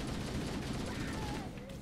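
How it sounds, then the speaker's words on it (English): Continuous gunfire from Halo: Combat Evolved Anniversary co-op play fills the whole stretch, a dense steady barrage with game sound effects mixed in and no pauses. "But you are shooting me."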